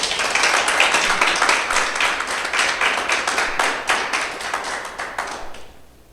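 A church congregation gives a burst of applause, dense close clapping that fills several seconds before quickly fading to quiet.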